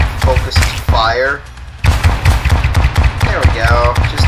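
Explosions and blasts from combat in the video game Terraria sound as a rapid series of sharp, punchy bangs, with people talking over them throughout.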